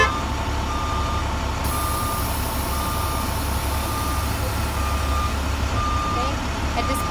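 A bus reverses with its reversing alarm beeping at a regular pace over a loud, steady diesel engine rumble, continuous throughout.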